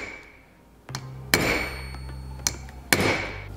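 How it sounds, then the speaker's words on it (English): Several sharp metallic hammer taps on a socket set against a table during a Miata engine bottom-end assembly, spaced irregularly, ringing briefly after each strike in a quiet room. "put it against your table, and then lightly hammer the socket"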